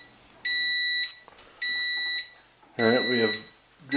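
Oven timer beeping while two loaves of homemade bread bake at 350 degrees, three steady high electronic beep bursts about a second long, evenly spaced, followed by a voice speaking.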